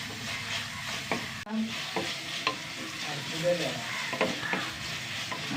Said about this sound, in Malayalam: തക്കാളി ഒന്ന് വഴണ്ട് വരണം